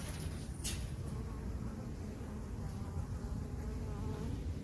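Thousands of honey bees swarming a fruit tree, collecting nectar, make a dense continuous buzzing hum all around, steady and enveloping, with one brief louder pass of a single bee close by.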